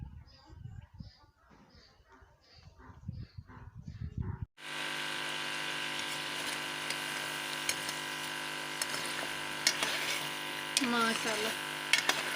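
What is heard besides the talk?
chicken frying in a pan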